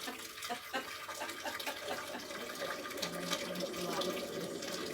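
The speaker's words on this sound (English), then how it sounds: "fill it up with hot water, which we're going to do now" Running hot tap water pours steadily into a pan, a continuous splashing hiss that fills the space throughout.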